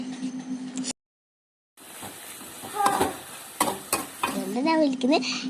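Powdered sugar is stirred into a hot pan with a spoon, giving scraping and clattering strokes over a light sizzle, broken by a short stretch of silence partway through.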